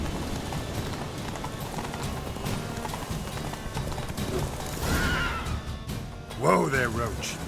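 Roach, a horse in The Witcher 3 video game, clip-clops in steady hoofbeats that shift near the end, with a short whinny-like call and character voices over the top.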